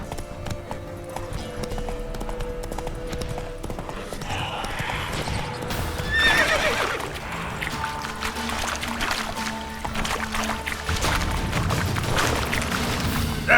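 Roach, a horse in The Witcher 3 video game, trots with steady clip-clop hoofbeats that are close and clear, mixed with game ambience and a brief whinny-like sound midway.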